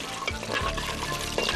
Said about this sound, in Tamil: அதனால நல்லா இதை ஃப்ரை பண்ண விடுங்க